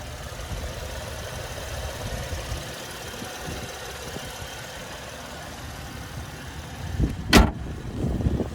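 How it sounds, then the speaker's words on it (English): A car's naturally aspirated V6 engine idles steadily as a low, even rumble, with a brief sharp thud near the end. "And there's that naturally aspirated V6 there."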